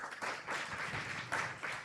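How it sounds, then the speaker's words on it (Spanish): An audience at a talk on artificial intelligence in social media applauds to welcome the guests, a brief, dense clatter of many hands, fairly faint and even, with no one speaking over it. "le damos la bienvenida a ellos con un fuerte aplauso"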